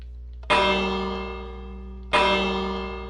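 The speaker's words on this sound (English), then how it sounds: "I ring the bell" A bell in the Minecraft video game is struck twice, about a second and a half apart. Each clear, ringing tone decays slowly over a quiet background.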